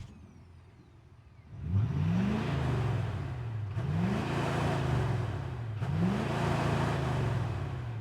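A Ford F-250 XLT's Scorpion V8 fires up after a quiet moment, then revs in three rising pulls that each settle back into a steady, full-bodied rumble, close and fairly loud.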